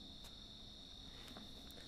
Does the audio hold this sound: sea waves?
no